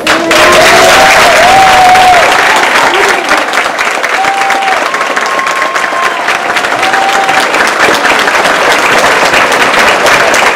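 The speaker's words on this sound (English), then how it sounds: "let's give them a round of applause" A crowd at a fourth grade graduation ceremony applauds loudly and continuously, a dense wash of clapping with a few faint whistles and cheers on top.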